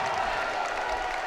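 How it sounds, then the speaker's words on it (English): Basketball crowd at a college men's game in a fieldhouse cheering and applauding as the home Vikings pull within two, a steady, dense roar of clapping and voices throughout. "the crowd approves"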